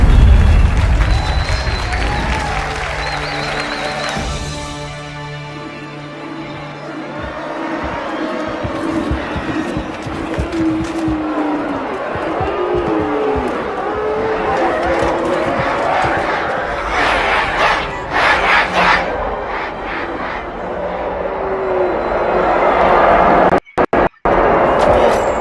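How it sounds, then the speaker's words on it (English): Crowd noise from a Halo video game cutscene: a broad murmur and cheer of many voices running throughout, mixed with music and game effects, with brief dropouts near the end. "Quite a crowd."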